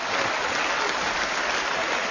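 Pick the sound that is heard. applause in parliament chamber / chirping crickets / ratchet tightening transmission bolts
applause in parliament chamber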